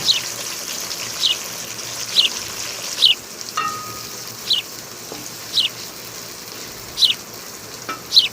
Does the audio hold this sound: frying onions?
yes